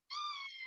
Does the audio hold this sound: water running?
no